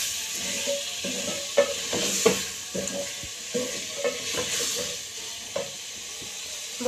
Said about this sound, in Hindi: अब इसके अंदर हम शिमला मिर्च डाल रहे हैं और इनको भी 3 से 4 मिनट अच्छी तरह भून लेंगे मसाले के अंदर।